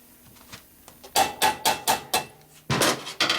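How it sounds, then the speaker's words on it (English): A series of sharp, hard knocks from a plastic hammer striking a part of a 2001 Indian Scout motorcycle engine, several evenly spaced blows followed by a pause and a couple more. "a plastic hammer."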